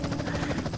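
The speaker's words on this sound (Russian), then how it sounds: "А вертолет заглушить нельзя?" Helicopter engine in the video game GTA, a loud close rotor thumping with rapid regular pulses over a steady engine drone, heard alone for a brief moment.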